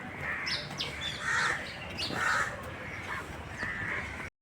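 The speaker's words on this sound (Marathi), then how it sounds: "पक्ष्यांचा किलबिल आहे." Crows cawing repeatedly in a few loud bursts, with birds chirping throughout against a busy outdoor background on the approach to the Jogeshwari Mata cave temple.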